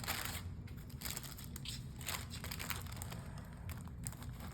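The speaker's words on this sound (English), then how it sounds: "And we're just gonna unwrap it, oh so lightly." Soft crinkling and crunching of a wrapper being peeled gently off a no-bake dessert roll on a cutting board, a close, steady rustle with small crackles and no talking.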